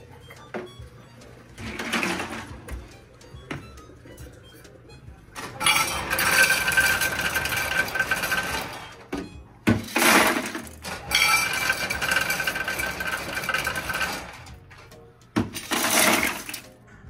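Ice clattering and crashing out of a hotel ice machine in bursts, loud close rattling cascades of cubes separated by short quiet gaps.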